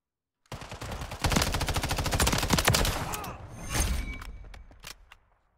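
Rapid automatic weapon fire in the video game Call of Duty Modern Warfare 3, a dense loud burst of shots that tapers into scattered single cracks and fades out.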